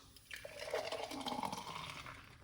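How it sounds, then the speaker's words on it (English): Pomegranate seed juice pours into a container in one steady stream, a close liquid gush lasting about two seconds. "Pour it out."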